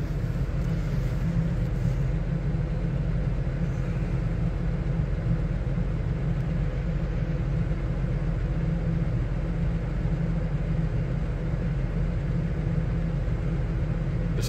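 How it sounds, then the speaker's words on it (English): A modest-sized Puma tractor pulling a loaded slurry tanker across a crop field drones with a steady, low engine rumble heard from inside the cab, constant and unchanging throughout. "It's a fair tanker behind and not that big a tractor."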